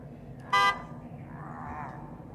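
A bus horn sounds once in The Evil Within 2, a short, loud, bright blast of about a fifth of a second over a low game ambience, with nothing else prominent afterward.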